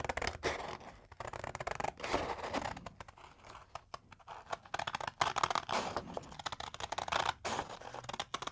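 Scissors cutting through cosplay armour material, steady repeated snips and crinkling scrapes close up over several seconds, with no talking.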